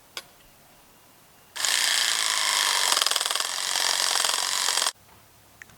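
A power tool cuts through metal pipe for a kayak cart, a loud, steady, buzzing grind lasting about three seconds that starts and stops abruptly, with quiet handling noise before and after.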